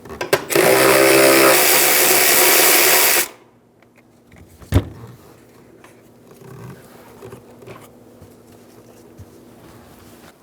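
A 14mm socket on a ratchet or power tool spins off the rear strut top nuts on a 2010-2014 Subaru Outback: a loud, steady mechanical whir runs for about three seconds, then stops, followed by a sharp clank and quiet workshop noise.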